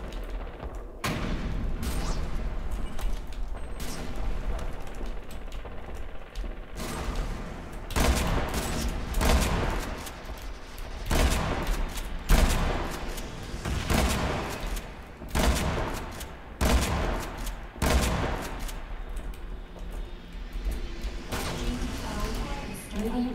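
Shotgun blasts and other gunfire ring out in rapid, uneven bursts throughout the Renegade X video game battle, loud and close, with a voice talking at times over the shooting.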